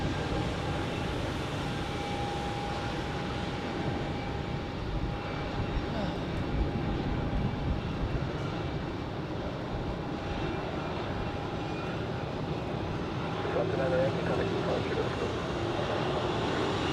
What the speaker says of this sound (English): So, Brussels Airlines on its way to Brussels.